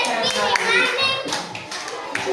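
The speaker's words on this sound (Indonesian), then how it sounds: "Kita beri tepuk tangan." Children and their teacher clapping in a classroom, brief bright hand claps in quick uneven bursts, with kids' voices chattering underneath.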